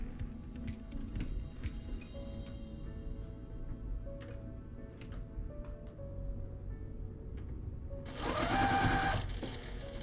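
A sewing machine stitches through quilt fabric with a close, steady motor whir and needle chatter, followed by a louder, faster burst near the end.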